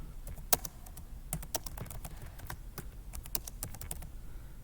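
Python code being typed on a computer keyboard, a steady irregular stream of close, light key clicks with occasional sharper strikes, no voices.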